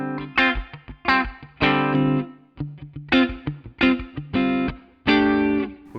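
Electric guitar in a clean tone running through a pedalboard with no effects engaged, playing a few strummed chords that ring out one after another, loud and close with no other sounds.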